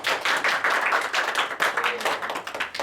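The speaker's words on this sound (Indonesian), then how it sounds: "Kita kasih aplaus dulu, Dok." An audience in a classroom or presentation session applauds, many hands clapping steadily and fairly close for a few seconds in an uneven, dense patter.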